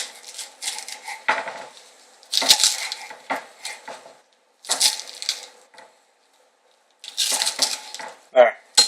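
Knife chopping food on a cutting board for a quick lunch, a series of close, crisp cuts and taps in bursts separated by short pauses.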